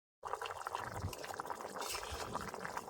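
A curry of taro and potato boils steadily in a pot, a continuous bubbling, simmering sound heard up close with no talk.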